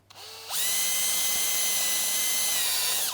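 A power drill spins up after a short click and whines steadily at high speed for a few seconds, close by, drilling a hole in wood, then begins to wind down.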